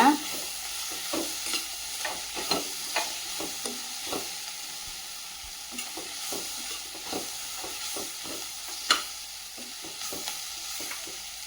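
Onion and tomato masala with chilli powder sizzles in a frying pan while a spoon stirs it in quick, irregular scrapes and taps, close and steady.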